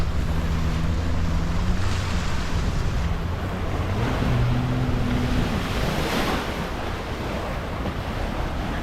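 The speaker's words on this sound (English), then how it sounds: "The wind picked up a little bit" Steady rush of wind and breaking waves on the open sea, with low engine-like hum from a jet ski or boat and wind buffeting the microphone throughout, loud and continuous.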